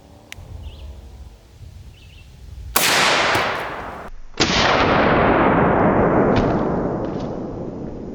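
An M1 Garand rifle fires .30-06 rounds into a head target: two loud, sharp reports a couple of seconds apart, each followed by a long rolling echo.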